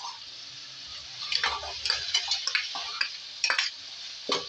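Mutton frying in a pan with two tablespoons of ginger-garlic paste, stirred in bursts of scraping and clatter over a steady sizzle, close and moderately loud, with no talk.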